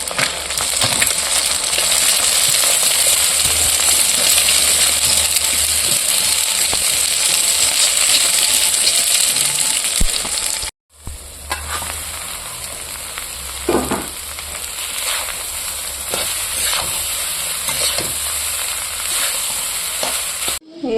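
Peanuts, rice, onion and eggs frying in a pan give a loud, steady sizzle that runs unbroken, with a brief cut midway and occasional scraping clicks of stirring against the pan.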